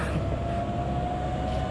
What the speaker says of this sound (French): C'est le bruit de la charge, ça.